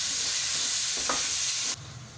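Tomatoes and green chillies fry with onion and ginger-garlic paste in a pan, giving a steady, dense sizzle with a brief stir partway through, close and continuous, then dropping suddenly quieter near the end.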